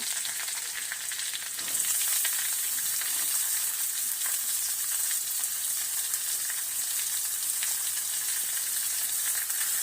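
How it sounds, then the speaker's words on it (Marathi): Chopped onion and tomato sauté in a pan with ginger and garlic, a steady broadband sizzle that swells slightly after the first two seconds and holds continuous and close for the rest, with no talking. "आणि टमॅटो हे सर्व घालून मस्त असं परतून घ्यायचं आहे"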